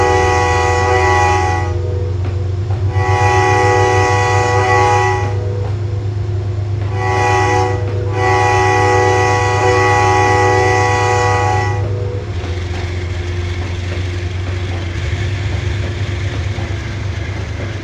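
A train in the Trainz 2022 simulator rumbles past a railroad crossing, its loud horn blaring in several long blasts with short gaps over a constant heavy engine drone and rail noise.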